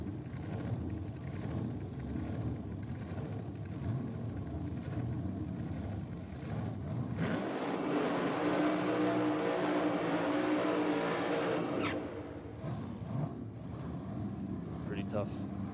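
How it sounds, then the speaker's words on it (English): A loud drag racing car engine roars steadily, rising into a harsh, revving burnout with big-tyre squeal for several seconds before settling back to a rumbling idle, at a no-prep drag race. "Tough big tyre action there for Thomas."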